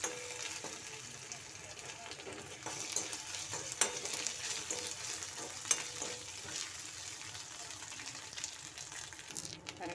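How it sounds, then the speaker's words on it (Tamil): Ginger and garlic sautéing in a pan with chillies for a prawn curry, a constant close sizzle and fry with intermittent stirring scrapes and faint clinks. "இஞ்சி பூண்டு போட்டு நல்லா ஒரு ஒரு நிமிஷம் நல்லா வணக்கிடணும்"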